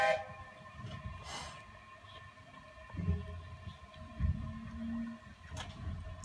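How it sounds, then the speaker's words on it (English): Train on the line to Bo'ness on a cold day, heard from inside the carriage as a steady low rumble with sustained tonal hum and a few brief clunks and bumps, no talk. "we're on the train getting ourselves back to Bo’ness"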